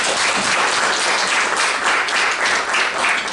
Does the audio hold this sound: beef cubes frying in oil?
no